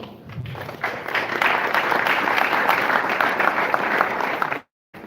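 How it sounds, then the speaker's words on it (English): Press conference audience applauding a boxer, Arthur Bayaslanov, at a Chicago fight event: steady broadband clapping swells after a second and holds for about four seconds, then cuts off abruptly. "Big round of applause please for Arthur Bayaslanov."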